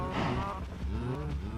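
Cows on a farm in the Minecraft video game moo in a drawn-out, loud, close call that slides downward, with a low rumbling texture and no talking.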